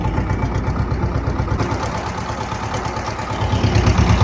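A T-25 tractor engine chugs loudly in first gear while driving slowly with a heavy load, a continuous low rhythmic diesel rumble with clatter that grows slightly toward the end.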